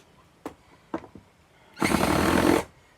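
A power drill removes screws during a van build: a couple of short clicks and taps, then a loud steady whir lasting under a second, close up and with no talk.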